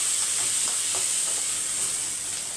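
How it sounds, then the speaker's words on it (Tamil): Onions sauté in a frying pan, about three-quarters cooked. A steady close sizzle and hiss runs throughout, broken by light scrapes of stirring, with no voices. "இப்போ பாருங்கள், வெங்காயம் நல்லா முக்கால்வாசி வதங்கிடுச்சு."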